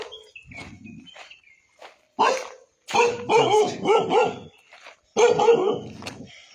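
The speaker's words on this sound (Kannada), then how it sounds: "ಯಾವ ಥರ ಬೊಗಳಕತ್ತೈತಿ ನೋಡಿದ." A dog in a hilltop village barks repeatedly, with several loud, close bark bursts and short gaps between them, plus a few quieter yips and faint footsteps.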